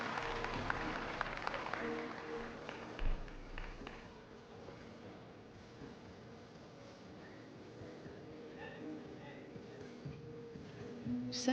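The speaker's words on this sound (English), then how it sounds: "The crowd cheering him back on." Arena crowd at a men's artistic gymnastics World Challenge Cup final in Varna, Bulgaria, cheering and applauding a gymnast back onto the apparatus after a fall, a broad steady roar of many voices that swells early and stays loud throughout.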